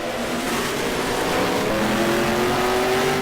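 GT1 race cars, including a yellow Ford, roar past on the Mid-Ohio circuit, a loud steady engine drone with a rising pitch as they accelerate by.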